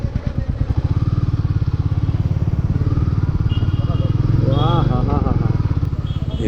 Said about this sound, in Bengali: এবারেই তো আসল মজা বাইক চালানোর